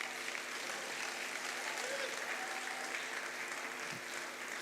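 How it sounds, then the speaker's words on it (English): Steady applause from a film summit audience after a speech, a continuous even wash of clapping at moderate distance with a faint voice briefly audible underneath. "Please give another round of applause for Mr. Bob Nyanja"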